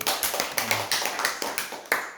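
A church congregation claps together in brisk, rhythmic applause, a series of sharp, close hand claps with no talking.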